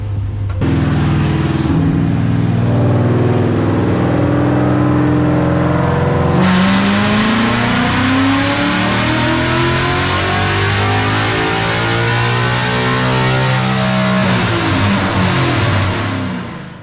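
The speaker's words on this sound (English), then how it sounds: "Just gonna do like 2 pulls on this Mustang." A Mustang on a dyno during a power pull, its engine roaring steadily loud and close, then climbing sharply in pitch as the revs build to a sustained high wail before easing off, with no voices over it.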